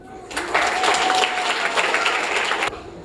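Audience at a Tamil book-introduction event claps steadily for about two seconds, a dense, lively burst of applause from a room of people that starts abruptly and stops cleanly.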